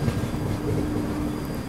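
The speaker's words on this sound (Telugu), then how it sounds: "చాలా ట్రైన్స్ వస్తున్నాయి పోతున్నాయి" A train rumbles steadily past at a busy railway station, a continuous loud low roar with faint wheel clatter and no talk over it.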